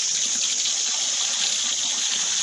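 Water from a sweet-water spring at Ghora Gali runs in a steady, even hiss, flowing constantly without pause and without any voices over it.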